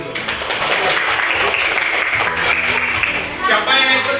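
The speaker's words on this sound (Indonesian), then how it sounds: "Tepuk tangan untuk Rafi dulu." Steady applause from a classroom of students clapping together for a classmate, dense and loud throughout, swelling slightly near the end.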